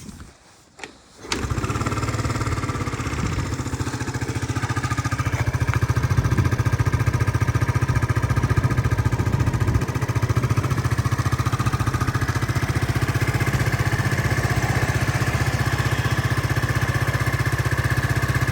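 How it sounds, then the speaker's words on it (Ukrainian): A Yamaha Cygnus X-125 scooter engine starts after a brief crank, then settles into a steady, even idle that runs close and constant with no one speaking. "Гарно рівненько двигун працює, без ніяких там зауважень."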